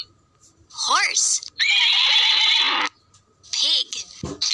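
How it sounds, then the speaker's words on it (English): A horse neighs loudly and close by, with a long quavering whinny followed by shorter snorts and calls. "Horse."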